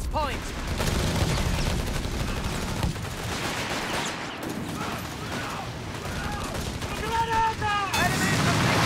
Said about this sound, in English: Good phosphorus rocket in there.